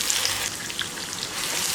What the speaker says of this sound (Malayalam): ചിക്കൻ പൊരിച്ച അതേ ഓയിലേക്ക് തന്നെയാണ് ഈ ഒരു സവാളയും തക്കാളിയൊക്കെ ഇട്ട് കൊടുത്തേക്കുന്നത്